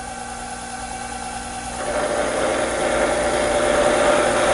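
A metal lathe bores a 1 3/4 inch bore into pie jaws, a steady machine hum that thickens and grows louder about halfway through as the cut deepens, continuous with no talking.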